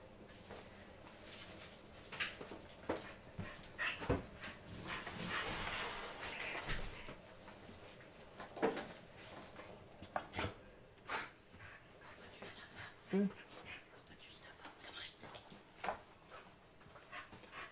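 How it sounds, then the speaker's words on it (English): A pet dog whimpers and pants indoors, wanting to come in and be petted, with soft whines and scattered sharp clicks and thumps over a long, low, steady background. "the dog decided he wanted in, and he wanted to get his rub by daddy"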